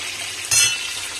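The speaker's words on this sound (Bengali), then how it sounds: "প্রথমত ফুলকপিগুলো লাল লাল করে ভাজছি" Close, steady sizzling of cauliflower frying in oil, with a brief louder scrape or stir midway.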